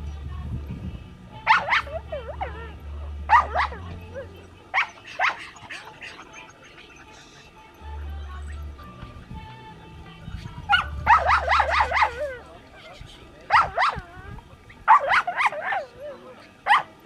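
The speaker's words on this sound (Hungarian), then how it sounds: "Jó, most küldjük a kis kutyát." A small herding dog being tested for herding instinct at Hortobágy barks and yips in sharp bursts, clustered volleys separated by pauses, fairly close, with low rumbling and a voice briefly in between.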